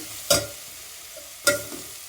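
A spatula stirs drumstick fry in a pan, with two brief scraping strokes over a low continuous sizzle.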